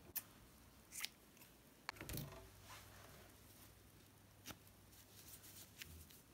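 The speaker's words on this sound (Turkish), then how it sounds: "İpi kesiyorum." Scissors snip through yarn while a crochet piece is finished off: a few quiet, short cutting clicks spaced apart, close by, over a soft low background hum.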